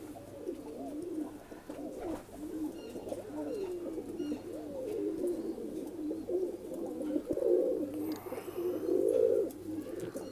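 A male and a female pigeon of the Laqa and Kalduma breeds coo close by in a steady, rolling murmur of soft repeated calls. There are no voices.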